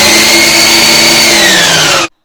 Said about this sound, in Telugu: మిక్సీ ఉంటే మాత్రం మిక్సీలోనే పట్టుకోండి